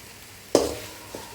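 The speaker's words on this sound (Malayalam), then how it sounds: "ഇനി നമ്മൾ മസാലപ്പൊടി ഇതിലേക്ക് ഇടുകയാണ്." Masala powder goes into chicken curry frying in a pan, with a sharp sizzle as it lands, a scrape of stirring and another faint sizzle soon after.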